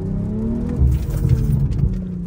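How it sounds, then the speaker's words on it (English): A car engine with a catless VRSF downpipe idles and burbles, with a few sharp exhaust backfire pops crackling over the low rumble. "Oh, the pops just sound so good with this new downpipe."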